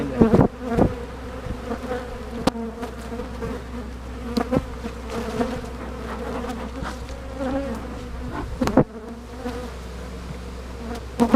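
Honeybees from an abandoned hive buzz steadily while being pushed into a new bee box, a dense close hum with scattered sharp knocks and clunks from the hive woodwork and old comb.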